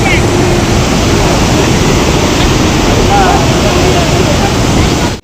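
Water rushes steadily at Khudiya Dam, a loud, continuous broadband roar with wind buffeting the microphone, running unbroken until an abrupt stop at the end.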